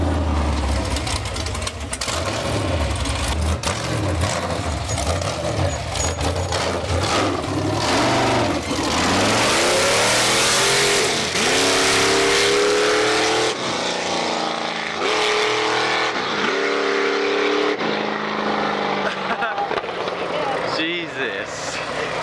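An LSX-engined dune buggy revs hard and accelerates along city streets, with its loud engine rising and falling through gear changes and loud whooping and talk from the people riding.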